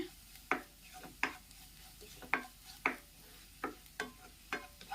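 Kashmiri chili powder sautés in a pan, stirred in a regular rhythm: roughly eight quick scraping strokes over a soft, low sizzle.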